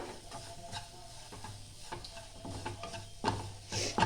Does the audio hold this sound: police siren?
no